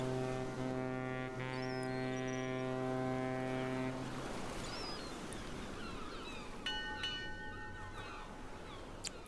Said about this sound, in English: Yeah, I hear a boat.